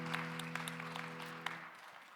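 A short burst of scattered clapping from a small church youth worship congregation, soft and somewhat distant, fading out toward the end.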